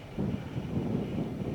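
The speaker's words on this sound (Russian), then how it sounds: "Ветер с такой силой, что удочки аж вот просто стоят около лунки и падают." Strong wind with frost and rain sweeps across a frozen Khoper river during ice fishing, a steady, low gusting roar heard alone.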